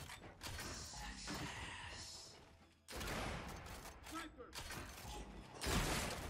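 Gunfire from a ranked Control match in the video game Gears 5, including a sniper rifle, comes as loud bursts and sharp cracks separated by short gaps.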